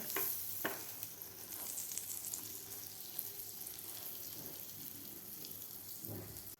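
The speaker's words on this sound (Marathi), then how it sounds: "खालची सुद्धा बाजू व्यवस्थित फ्राय झालेली आहे पावाची" Pav bread buns fry on a pan with a soft, continuous sizzle and a few scraping touches, fairly faint and close, and no voices.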